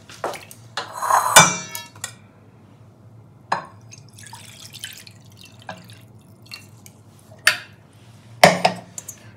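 An unglazed clay cooking pot, soaked for eight hours, is washed and scrubbed by hand: scattered sharp clunks and scrapes of clay against a surface, interspersed with water dripping and splashing in a quiet room.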